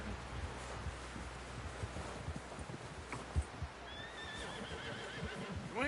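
Horse neighing in Red Dead Redemption 2, a rising whinny near the end that follows a stretch of soft hoof clops and rustling wind.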